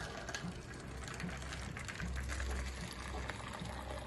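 Hot water runs from the dispenser of a fresh milk, coffee and tea maker in a steady, soft, continuous gush that stays low in level throughout.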